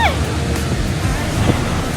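Niagara Falls roars as a constant broad wash of water seen from a boat right in front of the falls, with wind buffeting the microphone and brief voices over it.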